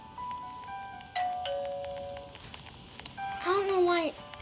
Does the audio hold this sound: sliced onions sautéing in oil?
no